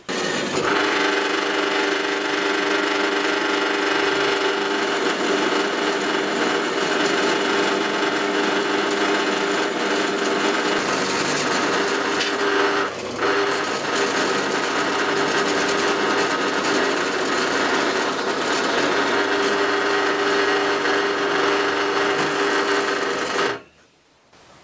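A Parkside PTBM 500 bench drill press bores into steel plate under heavy feed pressure, giving a steady, loud, close motor whine and grinding cut that runs almost without a break before cutting off abruptly near the end.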